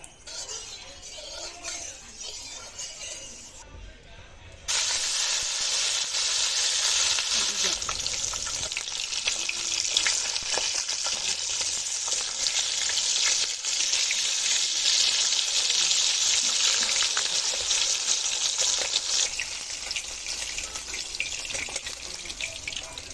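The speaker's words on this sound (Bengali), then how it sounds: "চলো এবার মাছগুলোকে সুন্দরভাবে ভেজে নেবো" Fish frying in hot oil for a Bengali koi recipe with black cumin paste, a loud continuous sizzle that jumps up sharply after a brief quieter start and then holds steady.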